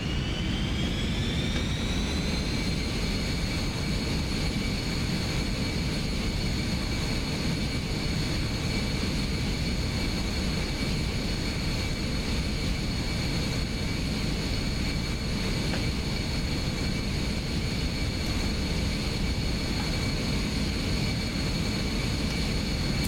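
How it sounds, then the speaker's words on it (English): Jet aircraft engines spooling up for takeoff in a VR flight simulator, a steady loud whine that rises over the first few seconds and then holds as a constant roar with a deep rumble beneath, no voices. "So the engines are coming up."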